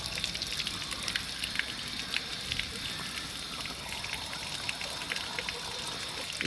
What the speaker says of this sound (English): keep this up until you see clean water